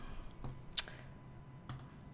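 A computer mouse gives two sharp, close clicks almost a second apart against a quiet room hum, with no one speaking.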